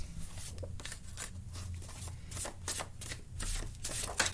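Handwritten advice cards are handled and shuffled into order, making a close, steady run of papery riffling and sliding that stays up front with no talking.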